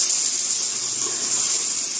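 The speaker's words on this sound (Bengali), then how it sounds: "মশলা ভালোভাবে কষানো হচ্ছে" Masala paste with cumin and coriander powder frying in oil, a steady, even sizzle and hiss close by with no talking.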